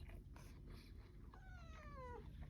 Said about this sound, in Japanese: この猫。